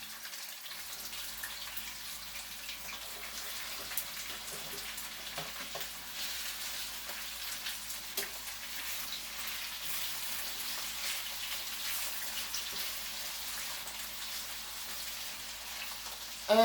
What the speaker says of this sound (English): And I am going to let those simmer for a minute